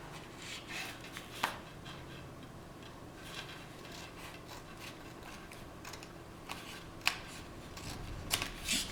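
Paper card stock for a double flap fun fold card being trimmed, with light scattered snips and soft rubbing and rustling at low volume, close by and without talk.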